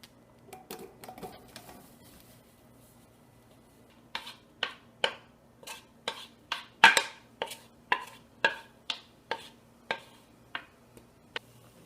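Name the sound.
stirring peaches in a pot for jam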